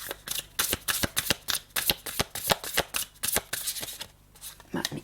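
Cards are shuffled for a card reading in a rapid run of crisp riffling flicks, close and fairly loud, with a brief pause near the end before the shuffling resumes.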